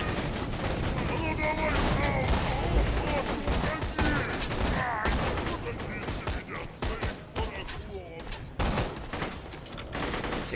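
Shotgun gunfire in the video game Borderlands 2, a rapid run of loud repeated blasts mixed with other weapon fire and combat noise, the shots thinning into separate bangs toward the end.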